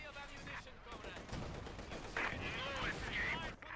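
Gunfire in the video game Company of Heroes 2, scattered bursts of shots and battle noise throughout, fairly faint and mixed with other game sounds.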